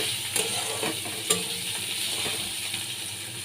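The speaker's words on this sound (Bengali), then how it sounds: "পেঁয়াজ কুচিগুলো দিয়ে দিচ্ছি।" Chopped onions fry in hot oil seasoned with cardamom, cinnamon and black cumin, a steady close sizzle with a few brief scraping clicks from stirring.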